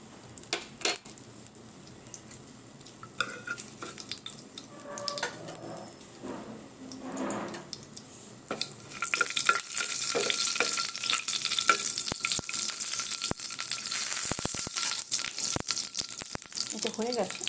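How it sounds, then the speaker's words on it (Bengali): Mustard seeds spluttering in hot oil with curry leaves and fenugreek for an uttapam tempering: light clinks and stirring give way to a dense, loud crackling sizzle with sharp pops, heard up close without talk. "এবারে দেব সর্ষে ফোড়ন।"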